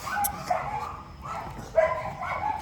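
Several dogs bark and yip at night near Thekkady, with scattered short barks and whimpers at moderate distance, fairly faint amid background noise.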